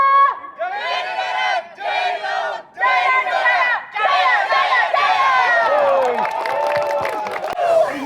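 An employee group at a company gathering shouting their team yell in unison, loud and close, with several rhythmic chanted bursts separated by short gaps, then a longer sustained cheer trailing into scattered shouts.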